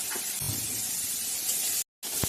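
Chopped tomatoes fry in a pan with fried onion, salt and a little turmeric for an eggplant bharta, giving a steady, close sizzling hiss that cuts out briefly near the end.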